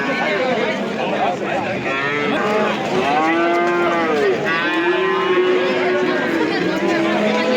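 Calves moo in long, drawn-out calls over a busy crowd murmur at a cattle market, with several animals overlapping in a noisy, crowded setting.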